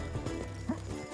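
A horse in the video game Rustler clip-clops briefly under a busy game soundscape, with short hoof knocks and a faint whinny-like cry near the end.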